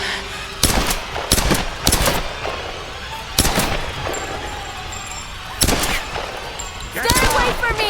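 Gunfire in the Tomb Raider video game, with several loud, sharp shots fired in irregular bursts, ringing out amid tense game action.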